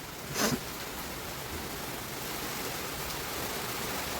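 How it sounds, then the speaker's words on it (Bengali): Steady, soft rain falling as a continuous even hiss, with a brief louder rustle near the start. "কত বৃষ্টি।"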